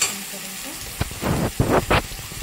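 Green chillies and two lengthwise-cut tomato pieces frying in a pan for a mutton dish: a low sizzle with a few louder crackling bursts and stirring scrapes, close by, with no talk.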